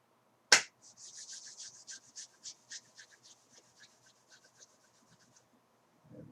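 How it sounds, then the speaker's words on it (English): A single sharp hand clap rings out to close a qigong class, followed by a run of faint, quick scratchy chirps fading away, with no talking. "So we'll clap our hands one time."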